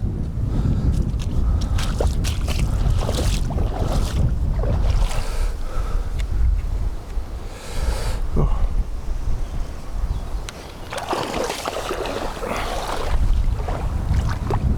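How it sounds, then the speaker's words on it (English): Strong wind gusting across a reservoir on a fishing trip, roaring and buffeting the microphone in uneven waves, with a faint high whine from the fishing line and occasional knocks and rustles nearby. "Oh, the wind's really picked up again now. The line is absolutely singing in the wind."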